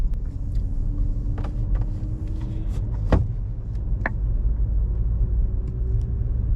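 A car rolls slowly through a two-way car park, a steady low engine rumble close by with a few faint clicks and one brief knock partway through, and no one speaking.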